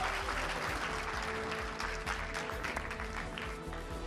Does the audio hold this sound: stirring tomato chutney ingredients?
no